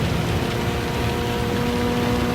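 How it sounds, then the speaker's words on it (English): Rain falls in the racing game Gran Turismo 7, a steady hiss of downpour with faint engine hum beneath, continuous and fairly close, no voices. "It is raining currently."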